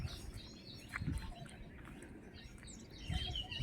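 Several birds chirp and call in the hills on a village morning walk, their short, scattered notes coming from a moderate distance over soft outdoor background noise.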